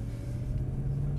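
A BMW M3 drives up a circuit pit lane between two rows of cones, giving a steady low engine rumble at moderate level throughout a short stretch, with no talking.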